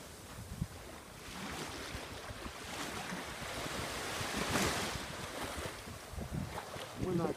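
Sea waves washing onto a beach at Limassol, a steady broad rushing surf with gusts of wind buffeting the microphone, close and continuous without speech.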